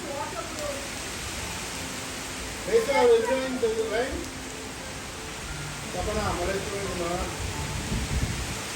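A constant soft wash of falling rain fills the background while a person talks intermittently over it.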